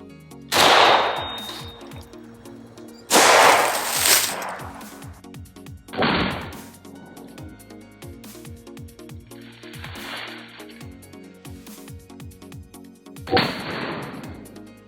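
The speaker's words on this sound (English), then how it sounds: "We have some 123 grain Red Army Standard coming out of the SLR 107." An SLR 107 AK-pattern rifle firing 123 grain Red Army Standard rounds at an AR500 Level IV composite armor plate from about 10 feet, several loud separate shots with sharp reports and ringing decay at an outdoor range.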